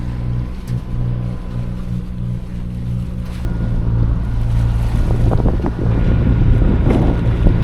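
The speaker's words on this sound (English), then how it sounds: "We're sailing at a couple of knots, so Kel's gone in for a dip." A sailboat making a couple of knots off the coast of Turkey, with steady wind buffeting the microphone, water rushing along the hull and a low hum throughout, growing louder and busier partway through.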